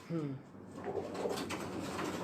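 Pigeons cooing at a loft where champion racing pigeons are bred and shown, a few soft low coos near the start followed by rustling and handling noise close by.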